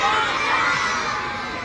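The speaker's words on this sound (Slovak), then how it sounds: "Deti, pomôžte mi. Zakričte škriatkovia dosť." A crowd of children shouting together at an outdoor Christmas event with a Coca-Cola holiday truck, a loud, sustained roar of young voices that stays steady throughout.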